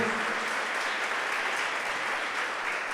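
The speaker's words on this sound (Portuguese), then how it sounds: "¿Podemos dar un aplauso al Señor por la vida de nuestro pastor?" A church congregation applauds together, a dense, even wash of clapping that holds steady at moderate level from start to finish with no talking over it.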